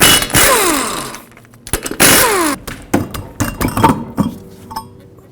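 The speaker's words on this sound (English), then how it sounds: "Now remove these 5 lug nuts, also with a 19mm socket," An impact wrench with a 19mm socket spins off wheel lug nuts on a 2006-2011 Chevrolet HHR in a garage, several loud buzzing rattling bursts separated by short pauses and metallic clinks.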